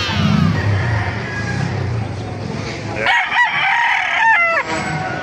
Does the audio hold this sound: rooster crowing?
yes